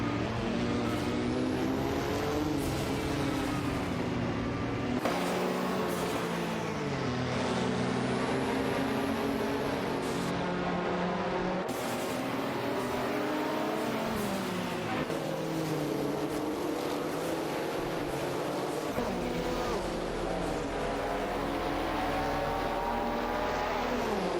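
In a video game race, a Lamborghini Diablo GTR and a Chevrolet Camaro IMSA battle closely, their engines roaring continuously with pitch climbing and dropping through repeated gear shifts.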